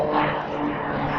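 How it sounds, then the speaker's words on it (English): A World War II–era propeller plane flies over in the open countryside of Wales, its engine giving a steady, broad droning roar that holds for the whole moment without any voices. "looks like a World War II plane."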